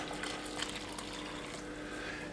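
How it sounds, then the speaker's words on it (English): Boiling water from a kettle pours steadily into a pot with brown sugar for a toffee pudding sauce, a continuous close hissing splash with no break. "And I'm also adding 2 cups of boiling water just out of the kettle."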